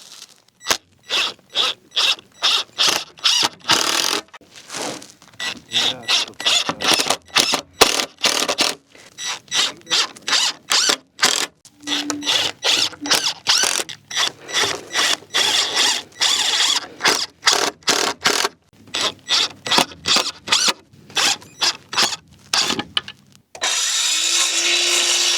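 A power drill drives screws into wood brackets on an Arizona homestead in repeated short, loud bursts with brief pauses between them, followed by a longer steady whir near the end.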